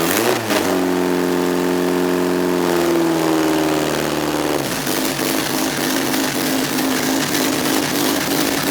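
A boosted Honda Civic engine cranks, catches and starts, revs briefly with throttle as the pitch sweeps down, then settles into a steady rough idle; close and loud throughout, no talking.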